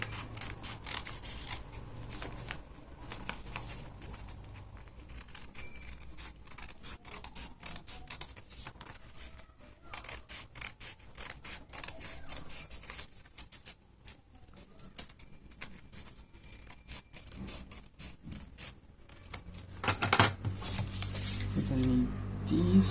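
Scissors snip through paper while a circle is cut out for a homemade mask, a long run of rapid close clicking cuts and rustles, growing louder and rougher near the end.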